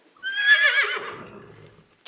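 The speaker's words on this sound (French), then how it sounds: "Qui galope et qui cavale? C'est le cheval." A horse neighs in a children's farm story: a single loud, wavering whinny that rises sharply and then trails off with a breathy, fluttering tail. A soft click follows at the end.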